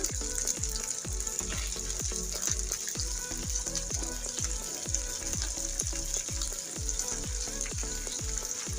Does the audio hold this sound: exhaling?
no